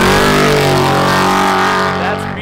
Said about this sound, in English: That's BJ Baldwin in the Black Rifle coffee truck. Just flew past us.